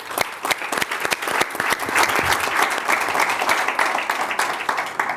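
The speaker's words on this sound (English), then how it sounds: "I will hope that you will join me in saying thank you and clapping a lot for our speakers" An audience at an Eastern Mediterranean energy-transition debate gives the speakers sustained, loud applause, dense clapping that swells and holds for several seconds.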